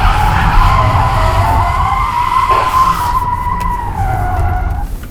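A Tesla Model 3 in track mode, set to rear-wheel drive, spins donuts with a loud, continuous tire squeal that holds steady and wavers slightly in pitch over the whole stretch, with no talking.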